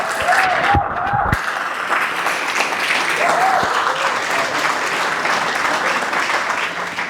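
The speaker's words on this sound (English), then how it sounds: "Please, a round of applause." An audience applauds steadily and loudly through a UNCW Athletic Hall of Fame induction ceremony, a continuous wash of many hands in a large room with brief tonal sounds near the start.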